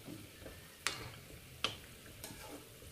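Samosas frying in oil over a medium or low gas flame: a soft, steady sizzle with two sharp pops or crackles close by and a fainter third one, with no talk.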